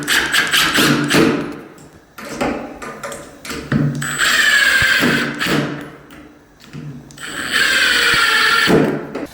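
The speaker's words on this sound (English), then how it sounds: "And then we can use our drill." Power drill driving screws into a door hinge: several short bursts of whirring motor with rising pitch, separated by pauses and handling knocks, loud and close.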